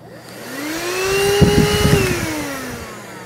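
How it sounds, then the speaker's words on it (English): A small handheld car vacuum cleaner powered from a portable power station's 12V cigarette lighter port whirs up to a loud, steady motor whine, then spins down at the end, with no talking. "This little vacuum here can actually pull about 11 amps"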